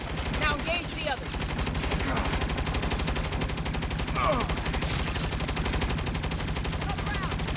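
Rapid automatic gunfire from the Saints Row video game rattles almost continuously, loud and dense, with game voices and shouting mixed in underneath.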